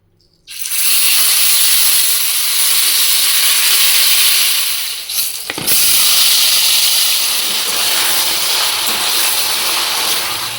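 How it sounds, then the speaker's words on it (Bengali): A pot of potato, pointed gourd and lentil-dumpling curry boiling on the stove gives off a loud, steady steam-like hiss that starts abruptly and runs on with little change, with no voices. "এখানে আমার আলু পটল আর বড়ির তরকারি ফুটছে"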